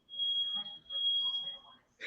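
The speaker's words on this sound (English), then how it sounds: "My fire alarm's going off." A smoke detector shrills with one steady high electronic tone for nearly two seconds, set off by burnt cookies, while a person talks underneath it.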